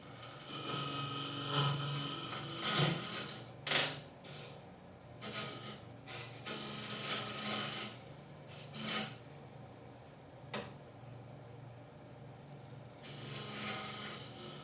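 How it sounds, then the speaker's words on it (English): A side scraper shapes a turned wooden segmented bowl in bursts of rasping, scratchy scraping, each stroke a second or so long with short pauses between, close and fairly quiet. "Now I'm going to do some final shaping with a side scraper."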